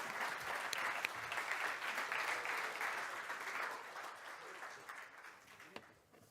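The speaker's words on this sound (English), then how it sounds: "Give them a huge round of applause." Applause from a forum audience at UK-India Week 2023, a full burst of clapping that gradually thins and fades over several seconds, with faint crowd murmur beneath.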